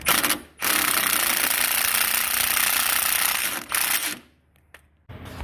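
Impact wrench hammers nuts off the suspension bolts on a Kawasaki Teryx, a loud, continuous rattling burst that runs for several seconds, pauses briefly, fires again, then cuts off.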